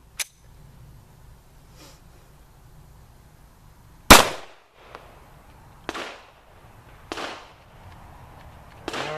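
A Kahr CW9 pistol being fired during break-in while suffering failures to fire and a trigger that does not reset: a handful of sharp, loud shots spaced irregularly over several seconds, each with a short ringing decay, and quiet gaps between them.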